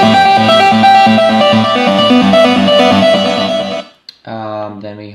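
Bright, distorted lead synth line from an electronic track in progress, playing a stepping melody with rich harmonics, cutting off briefly near the end before a short held phrase resumes.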